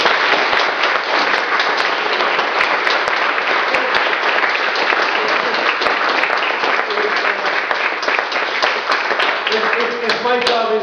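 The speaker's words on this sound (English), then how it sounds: "a round of applause for Des's work" A crowd at an art exhibition opening gives a long round of applause, with dense, even clapping and a few sharper claps standing out for about ten seconds. A voice begins to come through near the end.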